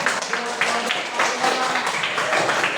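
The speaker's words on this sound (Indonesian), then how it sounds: "Tepuk tangan dulu." A classroom of students clapping their hands in applause, a dense, steady patter of many hands close by that holds at an even level for a few seconds with voices mixed in.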